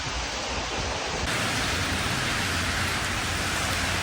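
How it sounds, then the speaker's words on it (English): Dense, steady rain pours down heavily, a constant loud hiss of water hitting surfaces with no pauses or other sounds. "The rain is 10 million times worse now."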